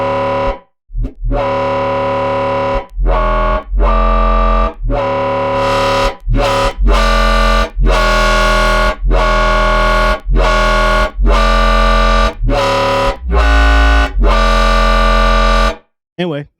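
Heavy Serum synthesizer sub bass patch with distorted, buzzy harmonics, played as a loud repeating sequence of sustained notes with short gaps, its level rising and dipping under LFO automation, no voices.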